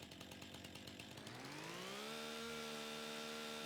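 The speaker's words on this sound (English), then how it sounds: "let's go ahead and grab our chainsaw" Chainsaw from the Farming Simulator 25 game, heard alone and loud: an uneven idle and rev at first, then climbing into a steady high-pitched whine that holds to the end.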